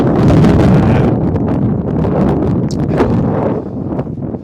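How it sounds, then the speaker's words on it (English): Strong wind gusting over open ground in Glen Coe, Scotland, a loud continuous roar buffeting the microphone with rustling flutters and no speech. "Over here, it's incredibly windy, so I decided against it."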